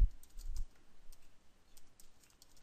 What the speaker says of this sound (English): So let's start typing that.